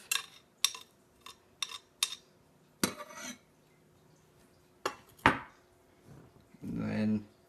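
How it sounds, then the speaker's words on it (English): A knife chopping tomatoes on a cutting board, with sharp separate knocks at irregular intervals and some clattering of utensils, close up, ending in a longer rustling scrape. "While I'm chopping, I chop these tomatoes in half"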